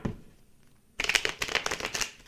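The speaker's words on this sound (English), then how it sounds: "Let me shuffle these cards." A deck of playing cards is shuffled up close: a quiet second, then a dense, crackling riffle burst that runs to the end.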